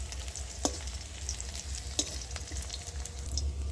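Okra fries in oil with onion and garlic, a continuous close sizzle with a low hum beneath and a few sharp clinks of a spatula stirring, with no one speaking.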